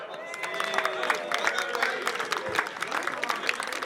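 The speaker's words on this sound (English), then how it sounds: "A big round of applause to Highgate Albion's number 9, Leon Lobjoit." Scattered applause and crowd noise at an outdoor amateur football cup final, moderate clapping spread across the crowd with cheering and voices mixed in, heard from a little distance.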